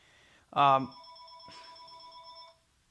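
A toy train set's telephone bell rings in two short bursts, a loud electronic trill followed by a softer second ring with lingering tones, fairly close.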